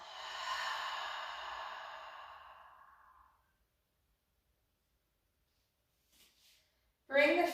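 A long, deep exhale during yoga, a breathy, fading rush of air lasting about three seconds, close and alone, followed by silence and then a brief voice at the end.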